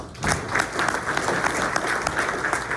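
Dense audience applause fills a room at a community morning event, a steady wash of many hands clapping close by, continuous and even in loudness throughout.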